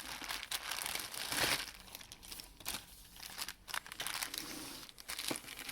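A plastic bag holding 24 metal Napoleonic miniature figures, Neapolitan infantry, is opened, giving close, continuous crinkling and rustling of plastic with brief crunchy bursts and tearing sounds over about six seconds, with no talking.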